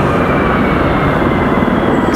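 Three Apache helicopters touching down at Raleigh-Durham International Airport, a loud, steady rotor and engine roar close at hand with no break.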